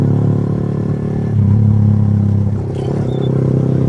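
Steady motorcycle exhaust drones loud and close throughout during a Sunday road ride, with a slight rise in intensity midway and some rattling clatter near the end.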